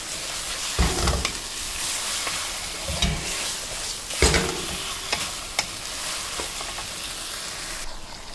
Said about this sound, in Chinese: 这样翻炒一分多钟以后让茄子入味